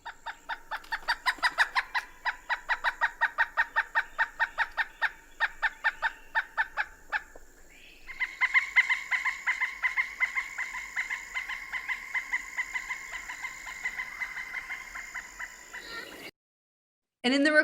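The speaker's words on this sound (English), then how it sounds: "So that's the pileated woodpecker." A pileated woodpecker gives long runs of rapid, evenly spaced, ringing calls, a loud series that holds steady before a pause, then a second, denser run of similar calls in an open wooded setting.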